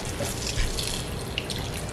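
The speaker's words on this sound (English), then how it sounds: "It still has to get one wash out with plain water." Bitter melon (caraille) is washed under plain running water in a kitchen, a steady splashing hiss with small drips and trickles, close and even throughout, with no talking.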